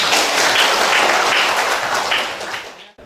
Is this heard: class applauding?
yes